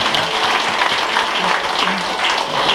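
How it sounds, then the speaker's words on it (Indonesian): A crowd at a Dayak community assembly in Indonesia claps loudly and continuously, a thick, even roar of applause with faint voices mixed in underneath. "kita tepuk tangan dulu untuk keluarga besar Blusu ini"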